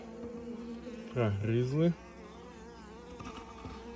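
Honey bees buzz inside a freshly opened Apidea nucleus hive, a steady close hum throughout while someone briefly speaks over it.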